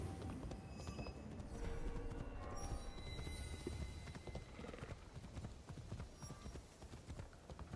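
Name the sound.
horse hooves clip-clopping while riding, from a video game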